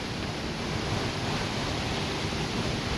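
Steady, dense roar of Compton's Double Falls in the Arkansas Ozarks, broadband and unbroken, heard from the bottom of the falls with no voices.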